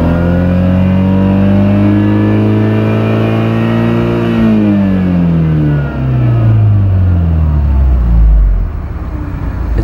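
A car engine is held at raised RPM, loud and close with a steady droning hum. The engine then winds down smoothly as the revs drop, ending in a low rumble near idle.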